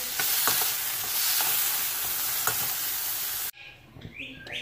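Chicken with spring onion sizzling in a pan, a loud continuous frying hiss with occasional stirring clicks, close by, before an abrupt cut to quieter kitchen sounds.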